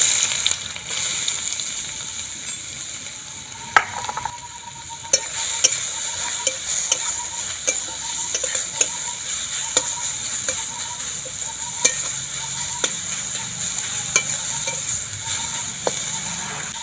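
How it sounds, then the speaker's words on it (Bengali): White cumin, black cumin and grated fenugreek sizzle in oil in a kadai, a soft continuous fizz punctuated by repeated sharp clinks of a stirring spoon. "ফোড়নে দিয়ে দিচ্ছি সাদা জিরে কালো জিরে এবার গ্রেট করে রাখা মেথিটা দিয়ে দেবো"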